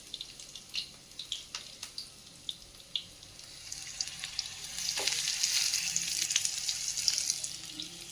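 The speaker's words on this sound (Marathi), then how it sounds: "थोडंसं लसूण टाकू, फ्राय करायला घेऊ आपण मस्तपैकी" Fish frying with garlic in a pan: a run of sharp crackles and pops at the start gives way to a louder, steady hissing sizzle, close by, without any talking.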